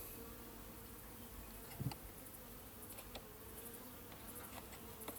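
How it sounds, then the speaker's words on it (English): Honey bees in a mini nuc hive hum in a steady, faint, continuous drone close by, with a soft knock or tap partway through. "There's a lot of bees in there on the floor."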